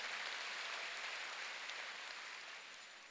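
A church congregation claps during a Korean Sunday worship service, a dense, even wash of many hands clapping at a distance, faint and continuous without voices.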